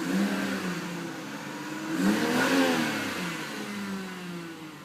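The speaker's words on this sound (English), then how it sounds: "I love their inline 6-cylinder engines. This one is the 3-liter i6." The 3-liter inline-six in a 2006 BMW 325i revs smoothly, a moderate engine hum that swells to a peak midway and settles back, with a faint secondary whir underneath.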